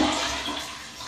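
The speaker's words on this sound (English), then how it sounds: "Toilet flushing." A toilet flushing indoors: a steady broadband rush of water that starts loud and slowly tapers off over about a second, with no talking over it.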